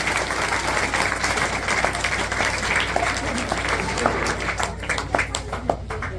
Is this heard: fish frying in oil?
no